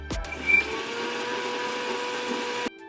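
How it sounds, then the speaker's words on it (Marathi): A kitchen mixer grinder grinds garlic with water added for a Maharashtrian dhapte spice mix, a loud, steady whirring drone of about two and a half seconds that stops abruptly after a brief bump at the start. "आता आपण ह्याला मिक्सरला वाटून घेऊ।"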